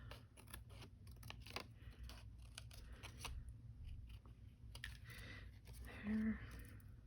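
Scissors snip around the edge of a playing card in a quiet room, a run of close, soft clicking cuts coming in irregular bursts, with a brief faint voice near the end.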